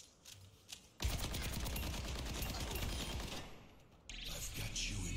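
Rapid automatic gunfire aimed at twin bots with the tactical visor in the video game Overwatch, a quiet start then a loud sustained burst of rattling shots, a brief drop, then the firing resumes.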